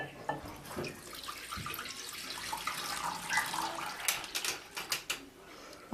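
Gravy pours and splashes steadily into a casserole dish, with a wet, gurgling stream that grows busier toward the end.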